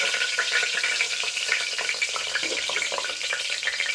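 Green chilies frying in hot tempering oil for a home vegetable dish crackle and sizzle loudly and steadily up close, with faint stirring in the pan.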